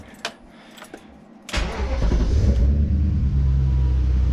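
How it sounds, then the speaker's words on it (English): A few clicks, then a BMW E30 with a swapped M62 V8 engine cranks and fires up with a sudden roar, settling into a deep, loud idle rumble. "I'm gonna start it up for you guys so you can finally hear it"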